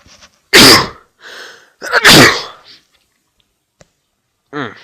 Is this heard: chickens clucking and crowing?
no